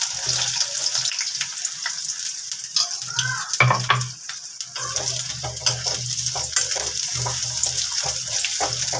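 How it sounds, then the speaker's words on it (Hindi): Taro pieces frying in smoking-hot mustard oil in a pan, giving a loud, steady close sizzle with crackles, stirring clatter and a brief clunk midway. "घुइयाँ को हम सबसे पहले फ्राई कर लेंगे।"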